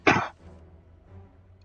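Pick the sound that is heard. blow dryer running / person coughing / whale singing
person coughing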